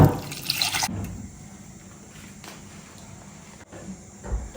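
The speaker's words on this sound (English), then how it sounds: "I'll go ahead and add water." Water pours into a cooking pan for fufu made from cassava dough and plantain, a brief splashing gush at the start that settles into quiet drips and faint rustling.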